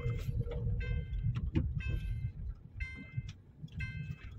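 Wuling Confero car rolling on its own with no throttle applied, a low steady engine rumble with repeated high electronic chime beeps sounding in a regular pattern inside the cabin.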